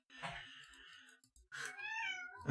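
A house cat meows twice in a quiet room, two drawn-out, wavering calls close by with a short pause between them and no talk over them.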